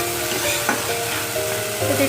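Food is lightly fried in a pan, making a loud, continuous close sizzle with an occasional clatter of stirring, and a voice is faintly present underneath.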